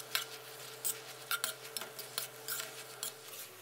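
Bamboo shoots and minced pork with basil being stir-fried in a pan, a utensil scraping and clinking against the metal in quick, irregular strokes, fairly close and moderately loud, with no talk over it.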